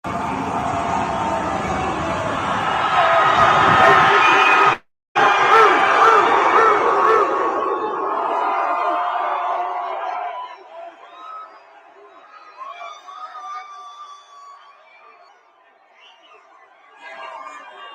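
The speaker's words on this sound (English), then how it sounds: "it's a lot of cheering going on. And that is at the airport in Oklahoma City" A large crowd of Oklahoma City Thunder basketball fans cheers and chatters loudly at the Oklahoma City airport, a dense roar that cuts out for a moment, then thins after about eight seconds into scattered, quieter voices and distant clamor.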